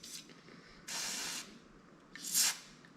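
Carb cleaner is sprayed into drilled and tapped holes while fitting a skid plate to a Factory Five MkIV Roadster, with three close hissing bursts: a brief first spray, then a longer steady one, then a final louder blast.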